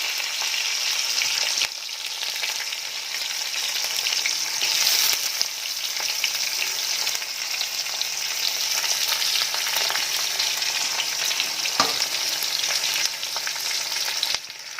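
Onions frying in hot oil with bay leaves give a dense, continuous close sizzle and crackle, steady throughout with a few faint clicks of stirring and no talk.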